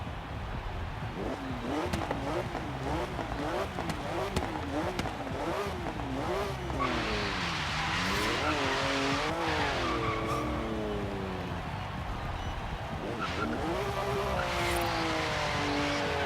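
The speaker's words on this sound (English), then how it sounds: "I'll be quiet and I'll rev up the engine." A race car engine in Forza Horizon 3 revs repeatedly. The pitch rises and falls in rhythmic sweeps, with some tire squeal mixed in, and it stays loud and continuous throughout.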